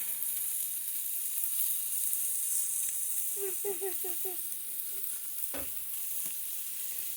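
Mushrooms fry in a pan with a steady, loud sizzling hiss, while a utensil scrapes and stirs in a few short clattering strokes, close by.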